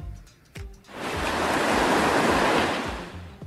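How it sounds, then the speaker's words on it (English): Ocean waves breaking on a beach, a broad hissing surge that swells up after a brief lull and rolls on steadily, close and loud with no voices. "it can find the sound of waves"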